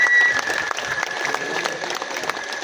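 An audience at the Theni book festival 2025 applauds to welcome a singer onto the stage: a steady crowd of clapping hands, fairly close and sustained, with a faint tonal hum beneath it.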